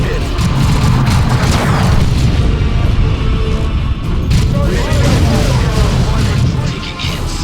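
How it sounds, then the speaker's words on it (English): Dense battlefield din from the Dawn of War II video game, with booming artillery and weapon fire crashing continuously and loudly, and in-game voices mixed into the chaos. "Keep advancing to avoid the artillery. Weapon fire has us pinned."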